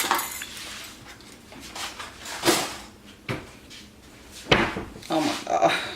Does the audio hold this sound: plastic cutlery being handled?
yes